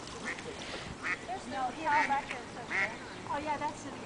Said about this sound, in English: Look, Ava, look at all the duckies that are coming.